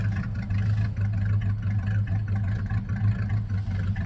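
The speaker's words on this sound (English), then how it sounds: "It's got a 428 Cobra Jet engine." A 1969 Ford Torino Talladega with a 428 Cobra Jet V8 runs at a car auction, its deep, loping exhaust rumbling steadily and close with a slightly uneven pulse, no voices over it.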